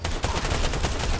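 Rapid automatic gunfire from the video game Fortnite, a dense, continuous burst of shots at steady loud level with no talking.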